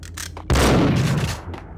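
Gunfire in the video game Max Payne: a few faint shots come first, then one loud, close blast with a booming tail, followed by a softer pop.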